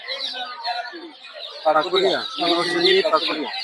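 Native chickens at a village poultry market cluck and squawk nearby in bursts, mixed with people talking close by.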